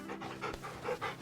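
A dog named Torgal in the video game Final Fantasy XVI pants steadily in quick, breathy rhythmic bursts, close and fairly quiet, with no talking over it.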